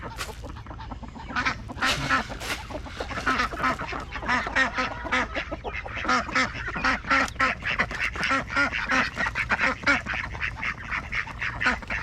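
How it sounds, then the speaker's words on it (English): Mallard ducks quack in a busy, continuous chorus of nasal, repeated calls, close and loud, overlapping one another with barely a pause. "come on, duckies. The mallards have started changing colors"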